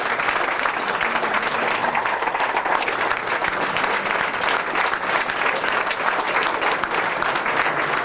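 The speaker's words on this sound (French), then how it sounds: "Standing ovation." Sustained, dense applause from a large audience giving a standing ovation at the close of a conference evening, steady and loud throughout with a crowd-wide wash of clapping.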